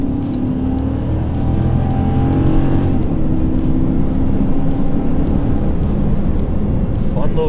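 A car passes nearby with a steady loud engine and road roar that builds slightly as it goes by, heard alone without voices and with repeated faint ticking on top.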